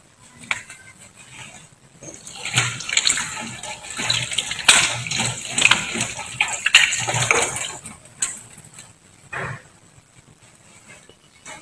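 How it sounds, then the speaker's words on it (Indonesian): Hands are washed with soap under running water from a tap, with uneven splashing and gushing that rises and falls as the hands move through the stream, and no one speaks. "Menggunakan sabun dan air mengalir."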